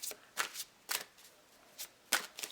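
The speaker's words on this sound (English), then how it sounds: "So I'm going to shuffle it 3 times this way as well." A deck of tarot cards shuffled by hand, heard as about seven crisp, close papery bursts spaced unevenly apart, with near silence between them.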